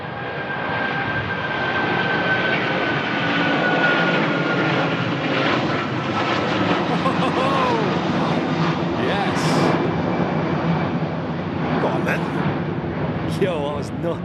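A jet airliner with Rolls-Royce engines takes off with a quick rotation, a loud sustained engine roar filling the whole stretch close by, while people talk over it.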